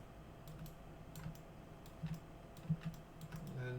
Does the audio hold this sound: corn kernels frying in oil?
no